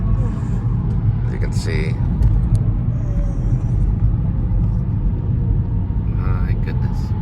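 Low, continuous road rumble fills the cabin of a car moving into Saturday shopping traffic, steady throughout, with someone talking over it.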